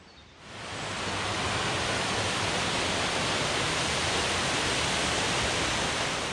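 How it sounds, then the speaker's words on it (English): Giessbach waterfall in Switzerland in early spring, before the snowmelt: a steady, dense rush of falling water that swells in after a brief quieter start and then holds constant and fairly close, with no voices. "The waterfall itself is also not yet very powerful and loud, because the snow melt has not yet really started"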